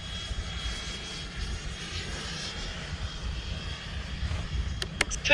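Freewing F-15 RC jet with 90mm electric ducted fans during a go-around, a steady whooshing engine roar heard from a distance outdoors, fairly faint and continuous with light wind noise.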